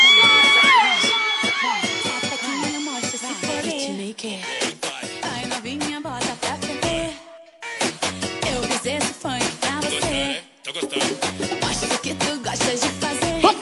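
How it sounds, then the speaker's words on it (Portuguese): A live show crowd in Curionópolis screams and cheers loudly over pounding music, with repeated bursts of shouting and brief dips between beats. "Cadê o grito das gostosas?"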